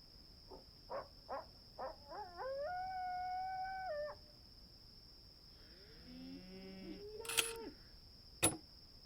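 Coyotes in the Nancy Drew game The Secret of Shadow Ranch give a string of short yips, then a sustained wavering howl and a lower second howl, set against a steady high electronic tone with a few sharp clicks near the end.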